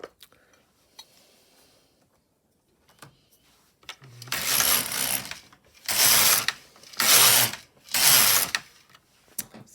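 An LK150 knitting machine casting stitches onto its needles: a few faint clicks, then four loud rasping, ratcheting carriage passes in a steady back-and-forth rhythm, close by, with no talking.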